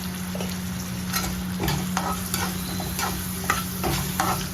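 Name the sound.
onions frying in a pan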